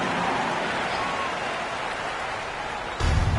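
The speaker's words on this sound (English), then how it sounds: "let's give a big round of applause to the Lakers Youth Dance Team" Crowd applause inside a PS4 basketball game at a Lakers arena, a broad steady wash of clapping and cheering that holds at an even level, then swells louder near the end.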